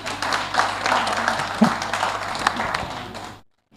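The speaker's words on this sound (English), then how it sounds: "At least you can clap for me." Audience clapping after a talk and question session, a short burst of moderate applause with some voices mixed in, ending abruptly.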